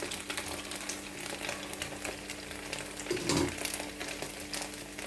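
Rice-flour and leftover-rice snacks fry in hot oil, a steady dense crackling sizzle that runs throughout, with a brief louder bubbling burst near the end and no talk.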